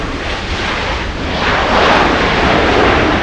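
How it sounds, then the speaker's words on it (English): A large Lufthansa airplane at LAX airport produces a loud, continuous engine roar that swells midway and stays powerful to the end, with no talking. "Lufthansa, ein großes Flugzeug."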